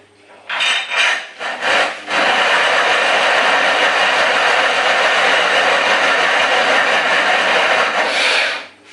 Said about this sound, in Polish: wiertara e, ślizga się po śrubie, śruba jest nowa